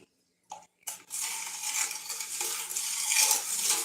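Spoon stirring sugar into a sorrel drink, a continuous close gritty swirling and scraping after a couple of brief clinks, with no talking.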